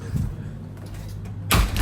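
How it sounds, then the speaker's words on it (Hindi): A door bangs shut in a home kitchen, a sharp, fairly loud thud near the end after a stretch of low background noise. "ओ मैं दरवाज़ा बंद कर गया ना यार"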